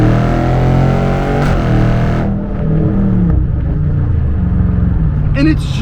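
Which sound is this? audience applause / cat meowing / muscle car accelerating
muscle car accelerating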